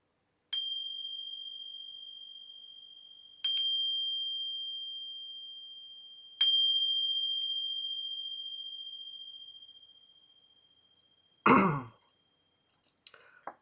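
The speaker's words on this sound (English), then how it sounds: "I'm gonna ring some bells. It might be a little loud." A bell strikes three times, each clear metallic tone ringing out and slowly fading, followed by a short breathy noise and a faint click.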